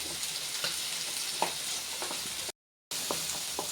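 Chopped small onions and garlic sizzle steadily in hot coconut oil, with a few soft spoon taps over the crackle and a brief dropout of silence before the frying noise resumes.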